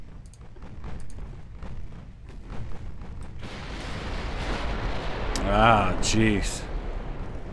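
Heavy naval shell hits and explosions from 14-inch guns rumble through a naval battle game, building to a louder burst of impacts near the end. Someone speaks over the action.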